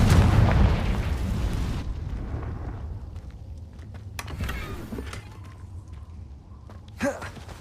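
A Confringo fire spell bursts in Hogwarts Legacy, opening with a loud, deep blast that rumbles and fades over a couple of seconds, followed by softer crackles and a sharp late pop.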